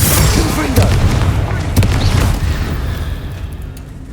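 A Confringo blasting spell in Hogwarts Legacy sets off a heavy, booming explosion with a sharp onset and crackling bursts that fade into a rumbling tail, amid the noise of battle.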